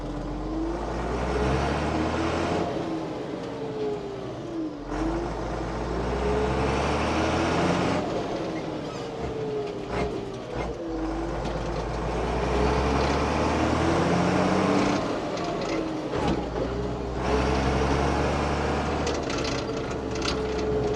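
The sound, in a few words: old harvest vehicle starting off in first gear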